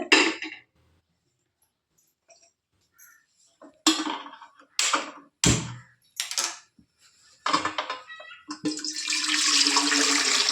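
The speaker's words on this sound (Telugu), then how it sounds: "ఇడ్లీ పాత్రలో అయితే కొన్ని నీళ్ళు అయితే వేసుకున్నాం" Water splashes and pours in short bursts with gaps, ending in a steady rushing stream of water filling an idli steamer pot on a stove.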